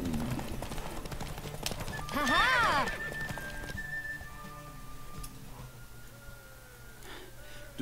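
A horse in the video game The Witcher 3 clip-clops and gives a loud whinny, with game music and background noise running underneath.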